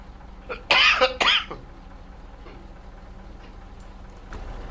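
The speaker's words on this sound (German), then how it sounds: "Das erklärt das Husten." Two or three harsh coughs burst out early in a SnowRunner game scene, loud and close, then fade to a quiet ambient hum with faint ticking.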